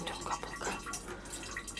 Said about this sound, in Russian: Капает водичка.